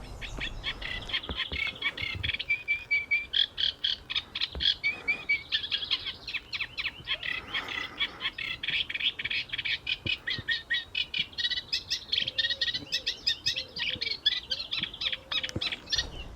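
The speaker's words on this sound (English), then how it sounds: "a Reed Warbler being very noisy" A reed warbler sings continuously in a rapid, churring run of harsh, repetitive chattering notes, fairly close and steady throughout, with no other voices.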